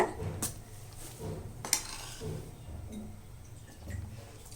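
A spoon scrapes and stirs thick ground coconut paste into a pot of carrot-beans kootu in slow, rhythmic strokes, with occasional light metal clinks against the rim.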